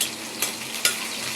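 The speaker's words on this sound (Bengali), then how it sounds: "তেলের সাথে মাথাটা আমি ভাজিয়ে নেব" Hilsa fish head fries in hot oil with a steady, bright sizzle, punctuated by two sharp spatters or stirring scrapes, close and fairly loud.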